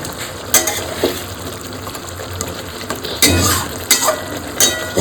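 Koi fish frying in oil in a pan while being turned from side to side, giving a steady close sizzle with several sharp scraping stirs spread through it.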